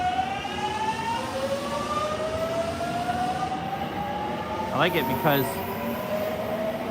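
A train pulls out of a curved station in Japan, its electric motor whine rising steadily in pitch over rail rumble, with a brief wheel squeal near the end as people talk nearby.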